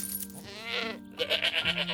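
A goat bleats in a short, wavering cry close by, followed by a second higher bleat at the end of a brief two-second stretch with no speech.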